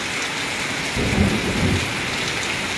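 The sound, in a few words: thunder during rain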